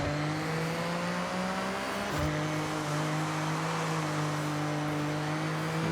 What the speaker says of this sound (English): This car loves to drift as well